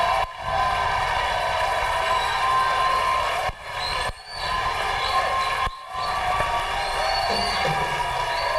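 A church congregation cheering and acclaiming Jesus Christ, a dense, steady roar of many voices that keeps going for several seconds at a time, broken by a few brief dips.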